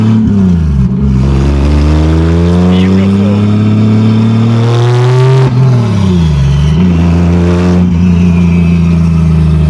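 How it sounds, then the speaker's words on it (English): 1987 Toyota Supra with a 2JZ-GE engine swapped to a large turbo, revving up and down in several rising and falling pulls, loud and close, with brief speech over it. "That turbo's loud."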